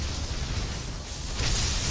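Dense, rumbling explosions from the video game Ninja Gaiden 3: Razor's Edge fill the scene with a continuous roar of blasts and bursts, loud and close, swelling briefly near the end.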